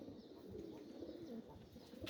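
Pigeons in a loft with several males, one of them moulting, give low, soft repeated coos, close by and continuous throughout.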